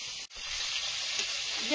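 Fish frying in hot oil, a continuous close sizzle with light crackle and spatter running through the whole moment, no voice over it.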